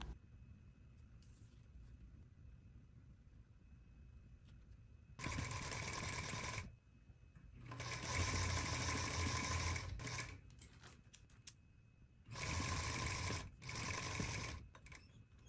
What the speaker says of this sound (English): Now I'm going to stitch pocket bag facing.